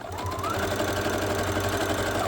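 A sewing machine runs steadily while chain piecing quilt fabric, a continuous close mechanical whir with a low rhythmic hum and no break or voice.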